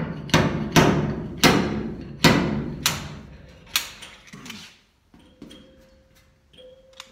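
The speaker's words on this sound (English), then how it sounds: "you're going to take your weight on your slide hammer and pull it back until it slams into this here" A series of heavy metallic slams from a slide hammer on a Harbor Freight stud welding gun, about six in steady rhythm, each ringing briefly before fading, followed by a few lighter clicks and a faint tone.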